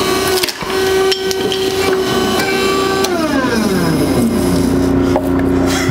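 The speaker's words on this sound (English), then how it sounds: "Try putting the nut in the nutcracker and the whole thing in a 25-ton hydraulic press." A 25-ton hydraulic press squeezing a nut inside a nutcracker: loud, close mechanical whine and grinding with cracking knocks, a steady tone that slides downward in pitch partway through as the press works, no talk.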